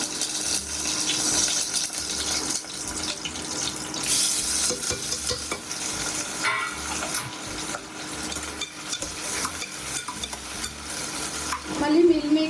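Cumin and cinnamon sizzle in ghee and a little oil inside a pressure cooker while Indian food is cooked for a Sravana month Friday. A steady, moderately loud frying hiss runs throughout, with stirring scrapes and no talking.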